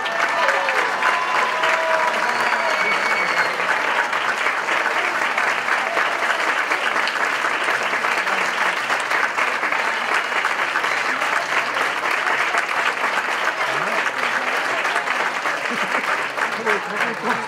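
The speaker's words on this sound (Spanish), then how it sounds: "nuevamente un aplauso para todos" Sustained audience applause at a national living statues contest awards show, a dense, steady wash of many clapping hands filling the space throughout, with some crowd voices mixed in.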